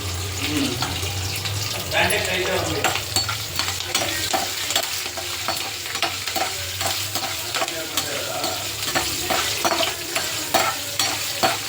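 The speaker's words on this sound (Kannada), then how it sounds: "ಕರಿಬೇವಿನ ಸೊಪ್ಪು ಹಾಕ್ತಾಯಿದ್ದೀನಿ. ಜೊತೆಗೆ ಮೆಣಸಿನ್ಕಾಯಿ ಹಾಕ್ತಾಯಿದ್ದೀನಿ." Curry leaves and green chillies spit and crackle in hot oil in a home kitchen, a loud continuous sizzle with repeated stirring scrapes and clatter and a low hum underneath, no voices.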